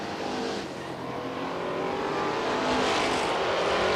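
Stock race cars roar down the back straightaway at Star Speedway, a dense, continuous engine drone that swells louder toward the end as the pack comes closer.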